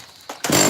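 A Stihl MS170 chainsaw, newly fitted with a replacement ignition coil, roars up sharply in a brief, loud, close burst of rough engine noise after a short cough.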